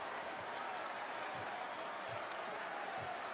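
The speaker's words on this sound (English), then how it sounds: "Even the Knicks are applauding." Dense, steady applause from a large NBA arena crowd filling a big space, continuous and even throughout.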